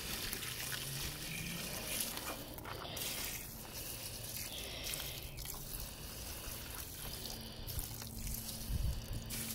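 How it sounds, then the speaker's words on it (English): Water trickles and drips faintly onto a campfire outdoors, a soft continuous dribble with small splashes and hissing squishes, quiet and steady throughout. "just pour the water on it."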